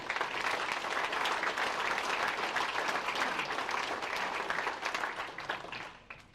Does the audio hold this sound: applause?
yes